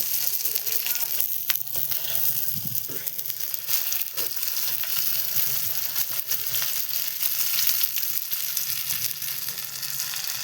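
Fish fries in oil in a pan with a steady, continuous sizzle and crackle. It is close and moderately loud, with occasional soft clinks and stirring noises over the frying.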